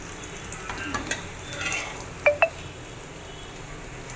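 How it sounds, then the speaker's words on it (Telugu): Mustard seeds and cumin crackle in hot oil left from deep-frying brinjal, a steady close sizzle with a few sharp pops and clinks partway through. "ఇప్పుడైతే నేనైతే వంకాయ డీప్ ఫ్రై చేసిన ఆయిల్లోనే ఆవాలు, జీలకర్ర వేసాను"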